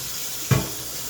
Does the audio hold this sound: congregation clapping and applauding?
no